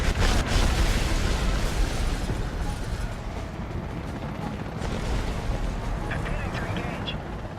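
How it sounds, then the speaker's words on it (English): Dense, continuous roaring blasts and rumbling explosions from rapid Hydra rocket fire by an Apache helicopter in the video game Apache Air Assault, loud and steady throughout, with a few faint high tones late on. "the one you're seeing me use right now is the Hydra rocket"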